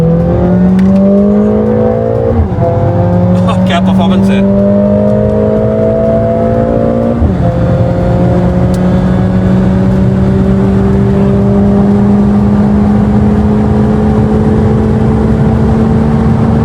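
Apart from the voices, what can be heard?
Mercedes A45S AMG accelerating at full throttle in 4th gear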